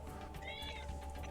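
A person's voice imitates a cat's meow during a tabletop role-playing game session, one short rising-and-falling mew heard faintly over a low room hum.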